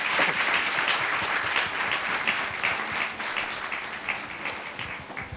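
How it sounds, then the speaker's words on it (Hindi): A church congregation at a Sunday service claps loudly and steadily in thanks, a dense sustained applause filling the room for several seconds with no talk over it. "जोर से ताली बजा के प्रभु को धन्यवाद देंगे"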